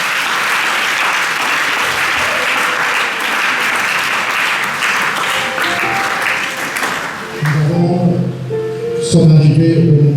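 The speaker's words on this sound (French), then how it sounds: "On acclame ici" A church congregation applauds at a New Year service, steady dense clapping from many hands filling the room, with voices and music rising near the end.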